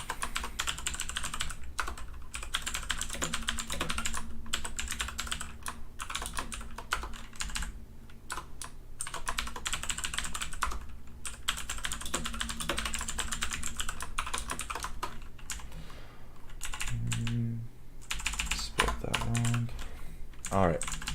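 Steady, rapid clicking from a computer keyboard runs almost without a break while Java code for a Spigot plugin is typed in, close and moderately quiet, with a few faint low thumps near the end.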